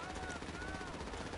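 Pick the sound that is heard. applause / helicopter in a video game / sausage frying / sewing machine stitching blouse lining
helicopter in a video game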